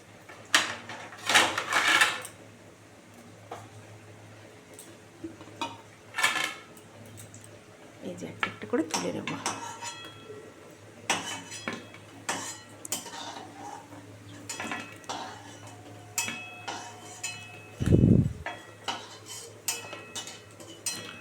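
Metal utensils clink and scrape against a pan as jackfruit seed fritters are lifted out one by one, a series of sharp close taps and knocks with pauses between, and a voice talking at times.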